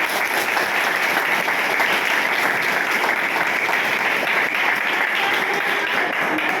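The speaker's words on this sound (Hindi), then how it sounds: "उसके चरण वंदन करते हुए जोरदार ताली चाहती हूँ" An audience gives loud, sustained applause at a gathering, a dense wash of clapping hands that stays steady from start to finish.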